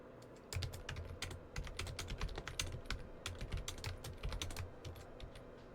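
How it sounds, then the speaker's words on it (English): Rapid, uneven keystrokes clatter on a computer keyboard as notes are typed, close and quiet, with short pauses between bursts. "Yes, I am typing down notes."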